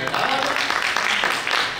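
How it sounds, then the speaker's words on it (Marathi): An audience at a Maharashtra newspaper association awards event applauds with dense, steady clapping that sounds loud and close, and the applause blends with a speaking voice. "ताईंच्यासाठी टाळ्या वाजवा"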